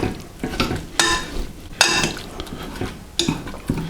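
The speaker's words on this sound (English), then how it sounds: "back of a fork or a potato masher and just break up any remaining pieces of apple" Cooked apple pieces being broken up in a pan with the back of a fork or a potato masher, giving a few separate scraping, squelching strokes with light metal clinks between short pauses.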